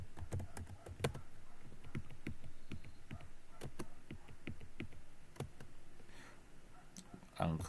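Quiet, rapid keystrokes clatter on a computer keyboard as numeric values are entered, irregular taps close to the microphone with soft speech nearby.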